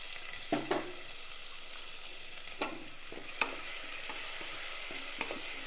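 Mustard seeds and chopped small shallots frying in hot oil: a soft steady sizzle with a few sharp stirring clinks and pops, fairly quiet and with no talking.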